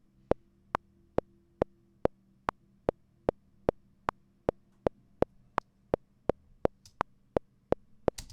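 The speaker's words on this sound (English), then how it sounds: "We're going to start with a measure of click, and then we're in on measure 1." A designed metronome click track in 4 at tempo 168 gives sharp, evenly spaced clicks, about two dozen in a steady pulse, dry and isolated with no other sound.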